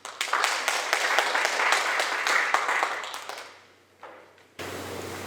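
An audience at a Korean heritage panel discussion in Naju applauds a speaker, giving close, dense clapping for about three seconds that fades out before a brief hum at the end.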